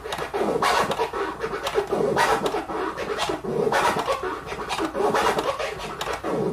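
Turntable delete scratch begun partway into the sample, a slurred, rubbing record sound repeating in quick bursts at steady loudness, close and alone with no talking.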